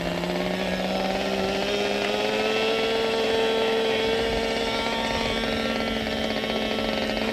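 An RC model plane engine runs steadily at idle on the ground, a continuous nasal buzz with a slowly rising pitch, close and loud throughout with no talk.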